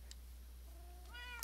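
A Ragdoll cat in Minecraft gives a single short rising meow near the end, quiet, over a low steady hum.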